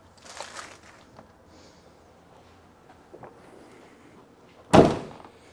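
A single solid thunk as a panel shuts on a 2000 Pontiac Trans Am, sharp and close, preceded by faint handling noises and quiet surroundings.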